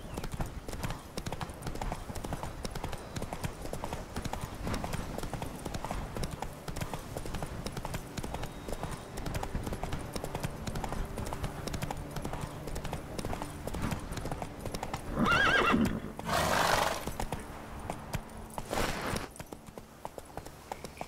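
Horse hooves clip-clop at a steady trot in The Witcher 3, the rhythmic beats continuing throughout and swelling louder for a couple of seconds near the end.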